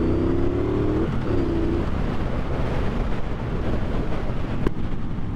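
Riding a Triumph Bobber motorcycle on a lakeside cruise, with steady roaring wind buffeting the microphone and a low engine drone underneath, continuous and fairly loud.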